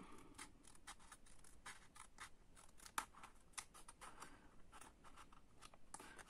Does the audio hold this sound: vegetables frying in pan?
no